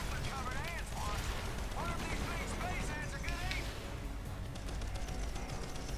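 Gunfire from bugs and soldiers in Earth Defence Force, a dense continuous clatter of shots and explosions running throughout, with game sound effects layered over it.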